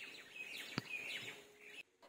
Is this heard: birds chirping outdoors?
yes